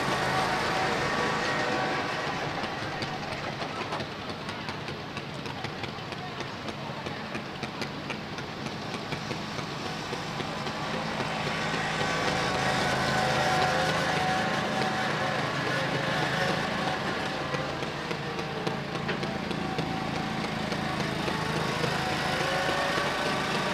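A youth-class garden tractor engine drones continuously as it pulls a sled at a tractor club garden tractor pull, the roar swelling and easing over a long run, with a crowd and announcer in the background.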